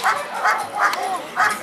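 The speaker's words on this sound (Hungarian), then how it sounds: "Ugye itt látható, hogy már ugat, már szeretné azt a zsákmányt magáénak tudni." A dog barks during a protection-dog demonstration, four or so sharp, close barks at a quick, uneven rhythm, eager and loud with nothing else competing.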